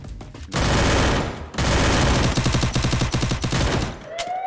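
Rapid bursts of video game gunfire fill most of the clip, loud and sustained automatic fire with a brief gap midway, then dense repeated shots before fading near the end.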